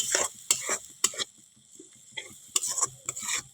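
Spice masala paste for an egg curry frying in a pan after a splash of water, stirred with a few sharp spoon scrapes over a soft sizzle, close and fairly loud with short quiet gaps.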